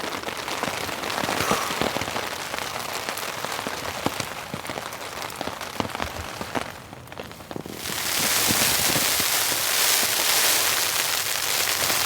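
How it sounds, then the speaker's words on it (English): Steady rain pattering on a tent during a snow and rain storm while camping in a valley, a dense close hiss that swells noticeably louder for the last few seconds. "just enjoy the rain, and hopefully it doesn't get too windy"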